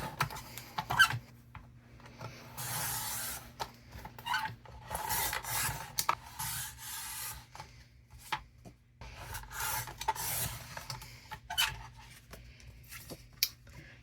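A craft blade trimming a paper photo print, giving short rasping, scraping strokes in bursts with pauses between them, close and fairly quiet, with no talk.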